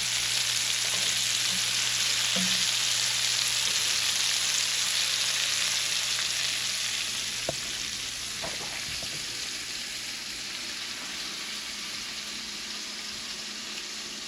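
Shrimp fry in a hot pan as a steady, close sizzle that fills the whole stretch, with a few soft clinks and light stirring noises, easing slightly quieter toward the end.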